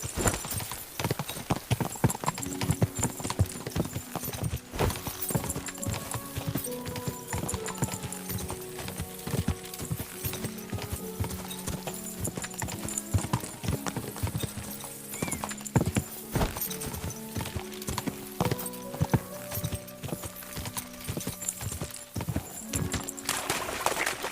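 Rapid, rhythmic horse hooves gallop loudly throughout in the video game Kingdom Come: Deliverance, with neighing and music layered over the clatter, like a stylized game soundtrack.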